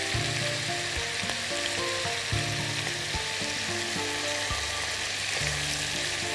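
Sausage frying in a pan as its fat renders out, a loud, continuous close sizzle with steady crackling and some faint tonal hum underneath, no voices.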